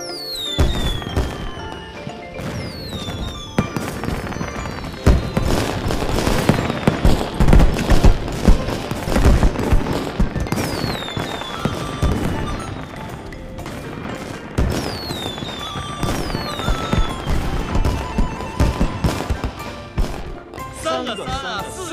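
Festive New Year fireworks burst in rapid, overlapping volleys of cracks and booms with whistling rises, loud and continuous throughout, mixed with music and ambient scene sound.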